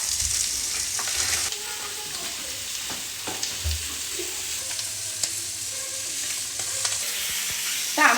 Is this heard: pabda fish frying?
yes